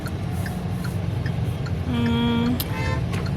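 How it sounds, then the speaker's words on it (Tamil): Heavy afternoon road traffic around 4 o'clock: a low, steady engine rumble of passing vehicles with a sustained tonal honk midway, like a horn, and a few sharper clicks near the end. "ஸோ ரொம்ப டிராஃபிக்காக இருக்குது."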